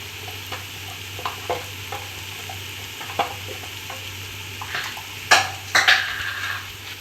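Chicken kottu with chillies sizzles softly in a pan while a utensil stirs it, giving scattered scrapes and clinks that end in a few sharper metallic knocks, close by.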